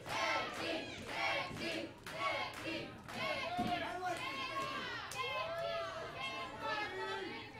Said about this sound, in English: Crowd's calling for a tag team match